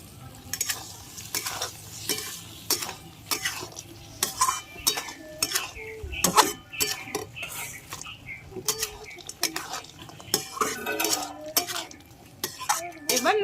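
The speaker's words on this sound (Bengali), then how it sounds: "আমি এবার উপর দিয়ে ভেজে রাখা বড়িগুলো দিয়ে দিচ্ছি" Fried lentil dumplings (bori) are tossed into a pot of shukto, giving soft sizzling, scattered clinks of a spoon against the pot, and stirring sounds, close and fairly quiet, with brief voices now and then.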